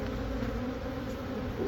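Honeybees swarm around a honeycomb, a steady, close, droning buzz of many insects holding an even level throughout, with no voices.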